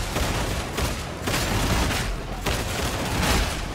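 Dense, continuous gunfire in the video game Warhammer 40K Darktide, with loud rapid shots swelling and easing in several bursts over a few seconds and no talk.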